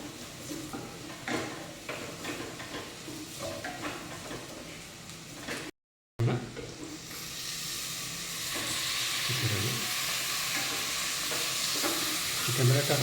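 Chicken curry stirred in coconut oil with chilli powder and garam masala, a continuous close sizzle and scraping stir that cuts out briefly, then returns louder and steamier.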